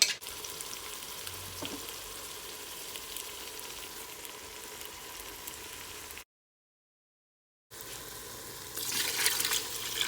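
Gentle sizzling and soft stirring scrapes as tomato paste is fried in a hot pot, a steady hiss with a brief silent gap before the frying noise returns louder.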